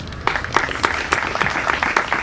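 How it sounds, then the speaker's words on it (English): School audience at St Ursula Secondary & Higher Secondary School's Republic Day celebrations applauds students with brisk, close clapping, sharp individual claps standing out over a steady wash of hands. "Let's give them a big round of applause."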